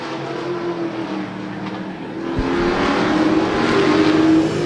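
Stock cars racing at Twin State Speedway in Claremont, New Hampshire: a loud, continuous roar of engines that swells as the cars pass close by, with no talk over it.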